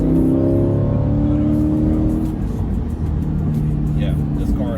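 A Chevrolet C8 Corvette fitted with a Banks Pedal Monster throttle controller drones under acceleration from inside the cabin, a steady engine hum with shifting tones that holds throughout.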